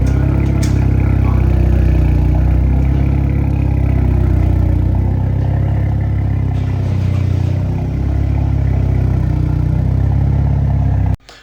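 A Hyundai i30N with its standard performance exhaust rumbles loudly and steadily for about eleven seconds, with a deep low burble and a slight swell in revs partway through, then cuts off abruptly at the end.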